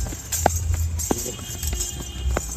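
A dancing mare's hooves strike the ground in a few sharp, irregular knocks, close and moderately loud, against a quiet background.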